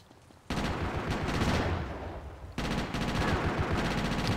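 Video game gunfire in GTA: Chinatown Wars comes as two loud, sustained rapid-fire bursts, close and dense, separated by a brief lull.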